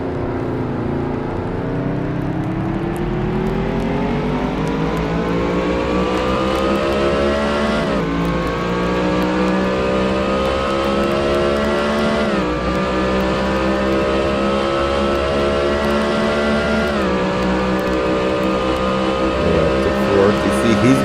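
A race car engine in a racing video game at Circuit of the Americas (EchoPark Texas GP) screams loud and close, climbing steadily in pitch, then dropping sharply at three gear shifts spaced a few seconds apart before rising again.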